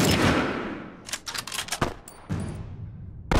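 Gunfire from The Last of Us Remastered multiplayer, loud sharp shots: a long opening blast, then a rapid burst of cracks, a single sharp report, another sustained volley and a final shot.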